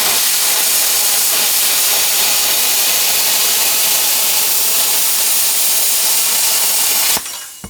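A VEVOR CUT-50P plasma cutter slicing through metal makes a loud, steady, harsh hiss that runs for about seven seconds and then cuts off abruptly.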